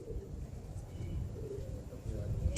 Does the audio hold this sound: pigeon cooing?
yes